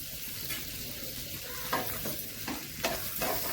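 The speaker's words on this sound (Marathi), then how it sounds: "त्या बटर मध्ये थोडंसं आपण हे लसूण परतून घेऊया" Garlic sautés in melted butter in a pan for homemade garlic bread, giving a steady close sizzle broken by a few scraping stirs of a spoon.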